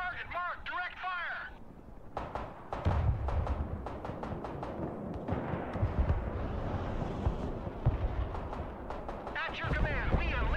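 Direct fire strike in Broken Arrow, a modern military strategy game: a run of sharp, loud gunfire and artillery-like blasts in rapid bursts over a low rumble, with voices talking through parts of it.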